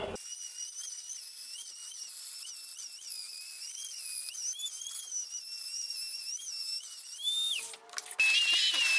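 A Dremel rotary tool with a plunge depth gauge set to about a quarter inch whines steadily at high pitch while cutting, the wavering tone running several seconds before cutting off into brief clatter and a second short whine.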